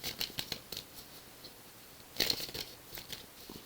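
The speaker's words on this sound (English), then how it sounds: "I pre-shuffled this deck off camera, but I'm doing this anyway" A tarot card deck being shuffled by hand, quick papery riffles and flicks in scattered bursts with a louder flurry partway through, close and alone without speech.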